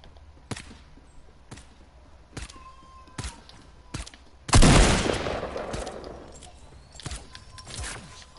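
Gunfire in the video game Fortnite: several sharp single shots spaced through the clip, then a loud, longer burst of fire near the middle that trails off, followed by more scattered shots.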